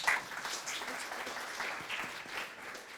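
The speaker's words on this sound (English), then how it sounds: "maybe give them a round of applause." Moderate applause ripples through a panel event audience on artificial intelligence, a soft, even spread of clapping lasting a few seconds at some distance, fairly quiet and with no talk.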